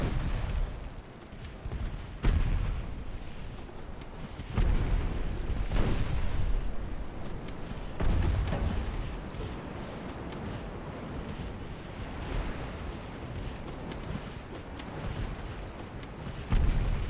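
Naval guns boom in the warship game Ultimate Admiral Dreadnoughts, several heavy thuds spaced a few seconds apart over a rumbling sea and wind bed, with no talk.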